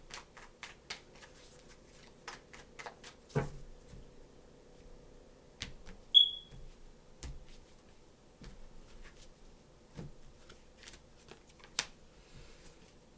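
A deck of tarot cards being shuffled: sparse, scattered riffles, taps and soft snaps spread over a quiet stretch, close and faint, with irregular pauses between bursts and no voices.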